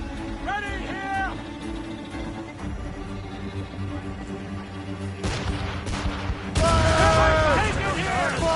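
Cannon fire from a sailing warship in Assassin's Creed: Rogue: a run of booming broadside shots at close range over a steady sea-battle din, with shouted voices heard between the blasts.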